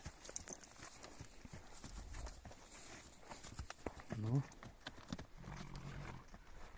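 Percheron horses, including a mare, walk along with irregular hoof clops amid rustling and handling noise, while people talk nearby and a low snort or grunt rises briefly in the middle.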